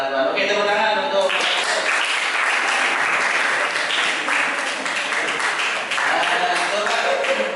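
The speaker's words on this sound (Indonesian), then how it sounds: "tepuk tangan untuk" A classroom of pupils in an Islamic religious education lesson breaks into dense, loud applause that holds steady throughout, with a voice briefly audible at the very start.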